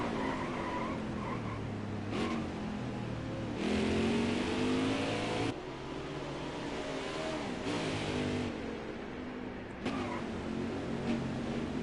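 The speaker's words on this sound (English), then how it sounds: "you could hear the tire squeal as you're moving forward" Race car engine and tire squeal from an Xfinity racing video game at Road America, with revving through corners, brief skids and gear shifts, loud and continuous with no talking.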